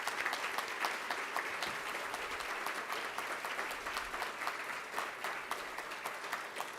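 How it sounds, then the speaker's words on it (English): Sustained audience applause at a university achievement awards ceremony: dense, even clapping from many hands, steady and fairly distant, with no speech over it. "I want to applaud for you."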